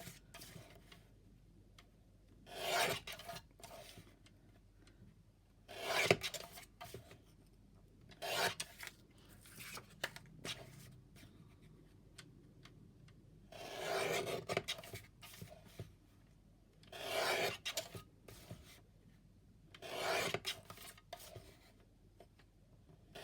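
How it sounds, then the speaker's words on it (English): Small mini trimmer cutting down craft tags, a series of separate raspy cutting bursts spaced a few seconds apart, close and fairly quiet with no talking. "I'm going to cut these down using this little mini trimmer that I've got."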